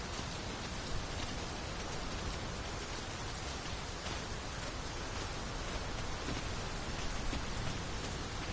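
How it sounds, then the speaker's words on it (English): Heavy rain pours down in a dense, steady hiss, a constant downpour with no pauses, in the video game Dragon's Dogma 2. "This downpour seems unlikely to abate."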